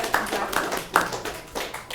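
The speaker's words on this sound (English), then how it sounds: "a round of applause" A few people clap at a town select board meeting, sparse and uneven claps close by, mixed with murmuring voices in the room.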